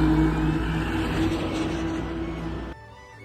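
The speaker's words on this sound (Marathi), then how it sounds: "इकडे गाड्या जात आहे." Vehicles passing on a village road in the rain, a loud close swoosh of a car going by that fades away, with faint background noise after.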